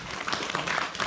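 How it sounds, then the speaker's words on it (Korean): An audience claps to welcome a speaker at a Korean sports science and medicine society lecture, a brief burst of steady, fairly close applause with no voices. "다 같이 박수로 환영해 주시기 바랍니다."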